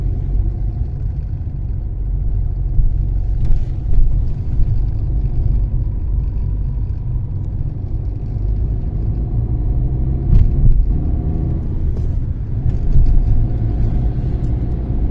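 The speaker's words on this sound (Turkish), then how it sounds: "Şimdi o bu yöne gelen arabalara bak." Cars move through slow, congested Istanbul traffic with a loud, continuous low rumble of engines and tyres, and passing vehicles swell briefly now and then, with no speech.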